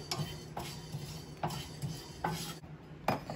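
A spoon stirs fenugreek seeds roasting in a dry pan, giving soft repeated scraping and light clinks at a steady rhythm, close and fairly quiet, with a faint background hiss.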